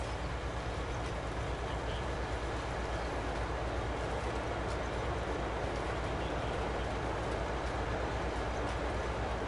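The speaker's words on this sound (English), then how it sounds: "That's a train again." A train in Farming Simulator 22 rumbles past steadily as a continuous broadband rolling noise at even, moderate loudness, heard alone without talking.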